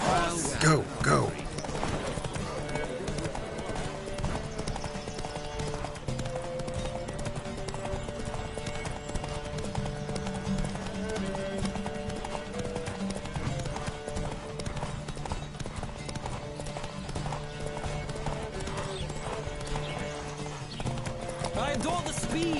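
Galloping horse hooves in a horse race in The Witcher 3 game, rapid rhythmic clip-clop under steady music, with occasional whinnies and voices speaking over the action.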